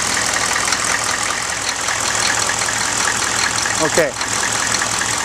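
A 6.5 diesel engine fitted with an HX35 turbo idles with a steady, loud rumble and faint knock that runs continuously through the whole clip, and one brief spoken word is heard over it.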